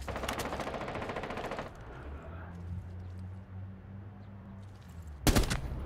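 Gunfire in Rainbow Six Siege opens with a fast, loud burst of automatic shots, then a quieter stretch of low background hum, and ends with a sharp, close single blast.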